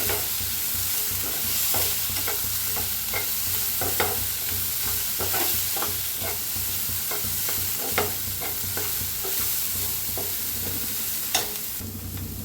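Spices are stirred into a potato mixture frying in a pan for aloo paratha filling, a continuous sizzle broken by regular scraping strokes of a spoon, close and steady with no talking.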